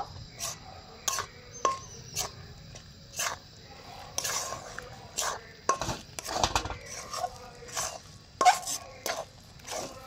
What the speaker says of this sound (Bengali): এই চালের গুঁড়িটাকে আমি ভালো করে মিশিয়ে নেব।